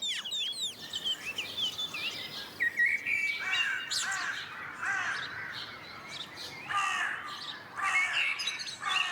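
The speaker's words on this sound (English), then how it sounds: "In the magpie's nest, the chicks have just hatched." Newly hatched magpie chicks call from their nest in a forest, a near, continuous chorus of thin chirps and harsher squawking calls with no voices over it.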